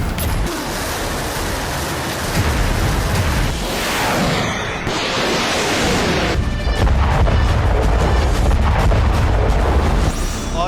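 Missile launches and heavy blasts roar in a continuous loud barrage, with deep booming rumbles, a rushing whoosh near the middle and dense explosive noise carrying through to the end; no voices.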